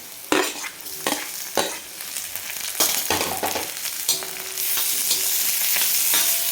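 Onion and tomato fry in a pan under a loud close sizzle, broken by several sharp spatula scrapes and stirs before a steadier hiss takes over.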